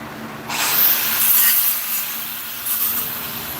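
Close, steady grinding as a workpiece is cleaned up with a power tool: a sharp high whine that kicks in abruptly, holds with a harsh rasping edge, then eases and rises again, with no talking.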